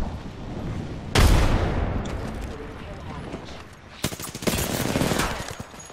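Gunfire from the battle royale shooter Apex Legends: one sharp, heavy burst, then a rattling string of rapid shots a few seconds later, with voices talking throughout.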